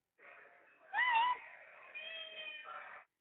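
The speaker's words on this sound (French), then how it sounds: "J'ai entendu le chat." A domestic cat meows several times in a row over about three seconds, fairly close and clear, with a louder drawn-out middle call. The cat is heard alone, with no talking.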